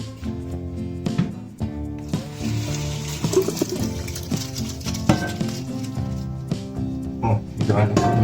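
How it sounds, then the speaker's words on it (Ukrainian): Water poured off boiled pasta into a sink, a splashing gush running under music with tonal notes and a voice speaking over it. "Коли наші вже готові, потрібно злити воду."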